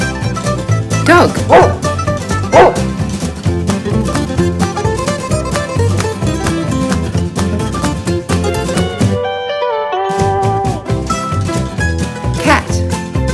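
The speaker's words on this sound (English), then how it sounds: "Dog." Toy dog barking and yipping from a farm animal toy set, repeated bow-wow calls heard over steady, busy background music.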